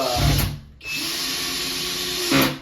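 A power drill drives screws up into ceiling joists while mounting a DIY spinning dance pole, with a loud whirring motor run that pauses briefly, then resumes and rises again near the end.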